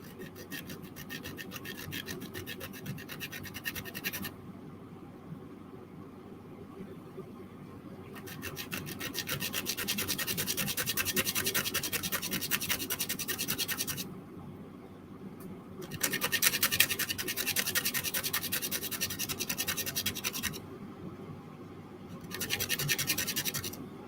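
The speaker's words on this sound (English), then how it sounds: "I'm just going to sand this nice and flat." Sandpaper rubbed back and forth across a small model part to flatten it, producing close, steady gritty scratching in long bursts separated by brief softer pauses.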